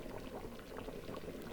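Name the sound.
fish curry boiling in pot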